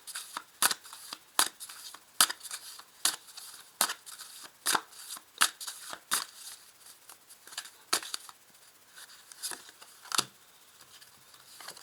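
Tarot cards being shuffled and drawn, a quiet series of sharp snapping riffles and flicks in irregular bursts, close up with no talking.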